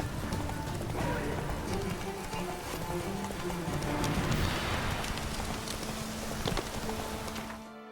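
The horse Roach trots through The Witcher 3 video game, its hooves beating a steady, close clip-clop over a constant rain-like hiss that fades at the end.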